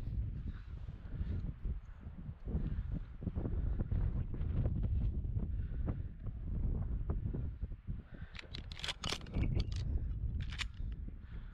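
Outdoor wind during a spring rabbit hunt buffets the microphone as a steady, rumbling roar across the whole clip, with a few sharp clicks and rustles near the end and no talking.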